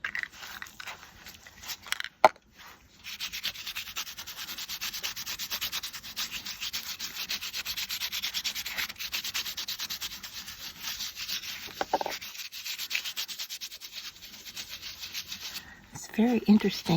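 Steady soft rubbing and scrubbing of alcohol ink being blended across an embossed tag surface, continuous and close for most of the stretch with brief pauses, no voices.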